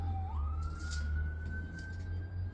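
A fire engine siren in Tucson wails from a distance, its tone rising and holding steady over low rumbling traffic noise.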